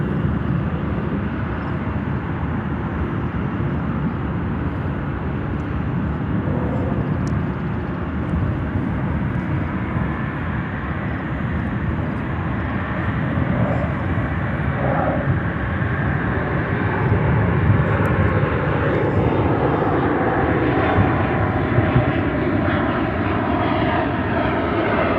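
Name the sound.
airplane going around at Chicago O'Hare airport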